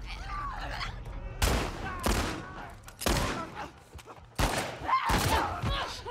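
Ellie's gunfire in The Last of Us Part 2, five or six sharp, separate gunshots spaced about a second apart, each loud and punchy over a quiet background.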